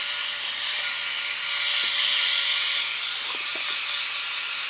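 A drill spinning a brush bit to polish a Honda Civic tail light whirs in a continuous, loud, even hiss, with faint rattles and clicks underneath.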